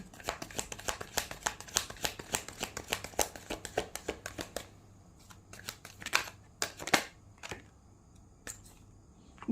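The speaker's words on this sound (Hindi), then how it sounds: "आज शफल ही नहीं हो रही है कार्ड्स" Tarot cards are shuffled by hand in rapid riffling bursts, close and crisp, with the flurry easing into a few sharper separate snaps and slaps of the deck.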